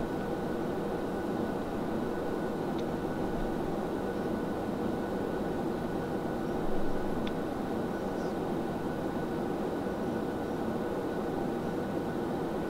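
Steady, even roar of Airbus A319 engines at takeoff power in a flight simulator, a constant broadband rush with no change in level and no talking.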